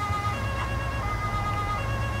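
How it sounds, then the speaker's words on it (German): A police car siren wails in the Autobahnpolizei Simulator video game, a continuous tonal siren riding over a low engine drone at steady loudness, with no talking. "Fährt mal mit Blaulicht, die Sirene."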